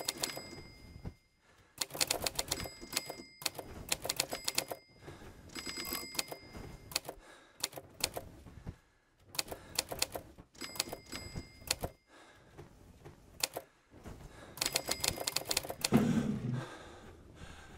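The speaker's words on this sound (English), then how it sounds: "I'm typing it still." Keys are typed in bursts in the horror video game EDEN, rapid clacking runs broken by short pauses, crisp and close, with a faint ding at times and no talking.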